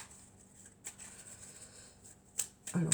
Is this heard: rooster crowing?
no